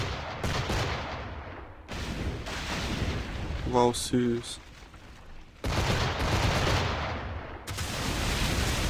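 Naval cannon fire from frigates and gunboats in the Assassin's Creed 4 video game booms in loud, dense bursts of gunfire. The firing breaks off briefly while someone speaks and then resumes heavily.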